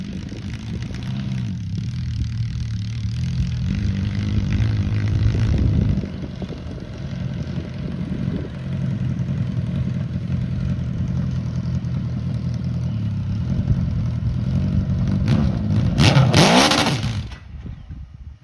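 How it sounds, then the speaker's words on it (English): An MG car engine revs hard and holds high during a burnout attempt on a dry road, a loud, sustained roar with a dip around the middle and a sharp rising flare before it cuts off. "We're gonna go out here and see if we can do a better burnout on the dry road"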